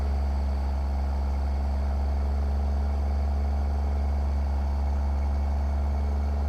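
Maxed-out ZeeMods sound mod of a Cummins N14 truck engine in a trucking video game, a steady low idle rumble with a constant hum, running alone and unchanged throughout.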